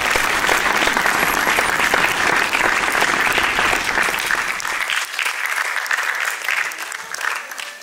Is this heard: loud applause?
yes